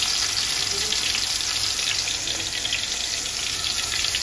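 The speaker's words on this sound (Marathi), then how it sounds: "आता ही कोलंबी ह्याच्यात आधी आपण फ्राय करून घेऊया" Prawns frying in hot oil in a pan, a steady, loud, dense sizzle running unbroken throughout with no talk over it.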